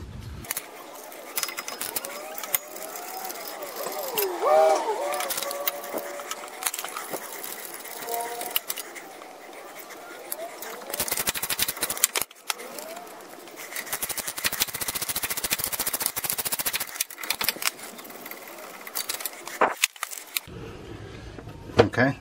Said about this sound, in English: the last thing to do is take off the three mounting bolts that hold the hub on